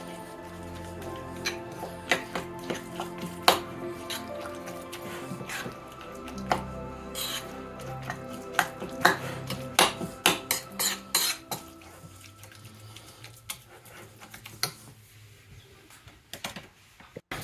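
Hazelnut filling with cinnamon is stirred into a paste, giving a spoon or utensil scraping and clinking against a bowl in irregular close taps, growing sparser toward the end.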